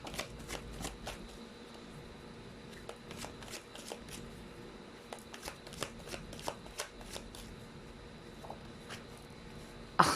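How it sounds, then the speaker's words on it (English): A deck of cards is shuffled repeatedly up close, with crisp riffling and rapid clicking snaps scattered over about ten seconds. "You saw me shuffle, right?"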